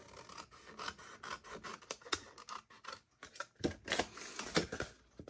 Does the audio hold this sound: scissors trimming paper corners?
yes